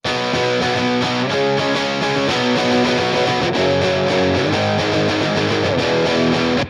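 Distorted electric guitar through Logic's Amp Designer plays a steady pop punk riff with a gritty, amplified tone, loud and continuous for several seconds before cutting off.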